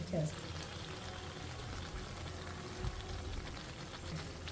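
Urad dal vadas (garelu) frying in hot oil, a steady low bubbling hiss running throughout with a faint clink or two near the start and a soft bump partway through.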